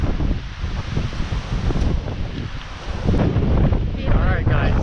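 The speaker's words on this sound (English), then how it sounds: "It's a very, very windy day though." Strong wind buffets the microphone on a very windy day at a farm market with pick-your-own produce, a continuous roaring rush that surges louder in the second half; a voice briefly speaks near the end.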